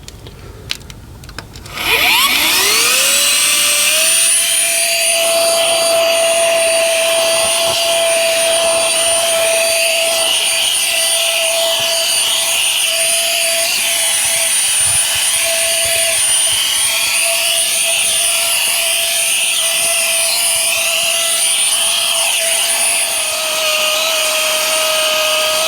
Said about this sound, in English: Managed to do it on almost on one charge of the vacuum cleaner.